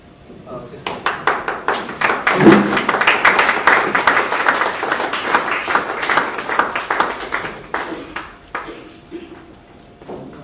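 Audience clapping at a literature festival award ceremony in a hall, a dense burst of claps swelling early and then thinning into scattered claps, with a voice speaking over it.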